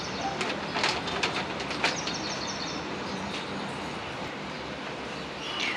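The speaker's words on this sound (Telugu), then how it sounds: "బ్యాక్ సైడ్ మీరు వాయిస్ అబ్జర్వ్ చేస్తున్నారండి, బర్డ్స్ చాలా మంచి సౌండ్స్ వస్తున్నాయి." Birds chirp and call from behind a garden balcony, scattered short calls over steady outdoor background noise, fairly distant and moderate in level, with no talking.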